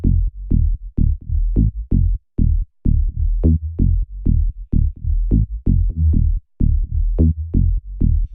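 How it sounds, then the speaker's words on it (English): A tech house synth bass line of short, plucky notes with a quick decay, repeating in a steady, rolling rhythm. It plays loud and up front with no voices. "we've gone for shorter notes and a bit of a pluck and envelope to our bass"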